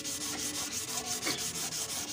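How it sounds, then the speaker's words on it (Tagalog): Sandpaper is rubbed by hand over the scratched body panel of a Honda Click 125i motor scooter. Close, rhythmic back-and-forth scraping strokes repeat several times a second, with no talking. "So niliha ko ulit siya."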